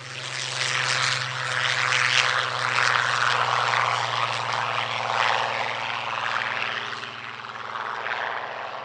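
A Comet racing aircraft, a bespoke prewar air racer, flies past at the Shuttleworth airshow. Its propeller engine gives a steady droning roar with a low hum that swells and fades slightly as it moves.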